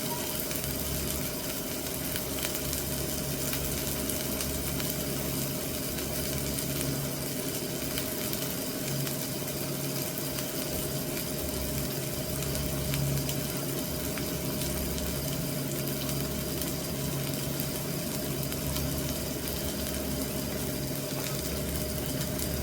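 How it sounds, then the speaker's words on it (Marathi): Masala spices fry in hot oil for a spicy potato rassa bhaji, a continuous broadband sizzle that hisses steadily and close up without pause. "जेव्हा आपला मसाला भाजतो तेव्हा असं कडेने तेल सुटतो मसाल्याला"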